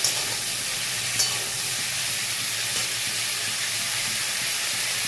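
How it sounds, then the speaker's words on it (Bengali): Potatoes fry in a pan with a steady, even sizzle that stays close and unbroken, with no talking over it. "তারপরে আলু ভেজে"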